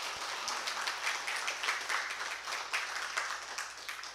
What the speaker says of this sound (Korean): 저희들에게 알려주신 우리 김수영 목사님께 감사의 박수 한번 올려드리겠습니다.